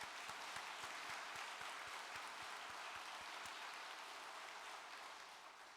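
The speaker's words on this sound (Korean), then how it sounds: "독생녀 참어머니께 감사의 박수를 올려주시기 바랍니다." A church congregation claps in thanks, a sustained wash of applause with faint regular beats running through it, fairly distant and even in level, with no speech on top.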